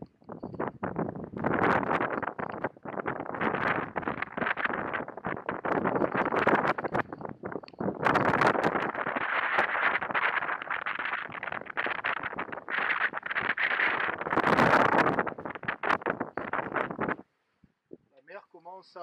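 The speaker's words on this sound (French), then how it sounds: "Il y a 14 nœuds de vent." Wind of about 14 knots buffets a solo sailboat at sea on a crossing to Corsica, a continuous rough roar and rustle that beats against the microphone before cutting off near the end.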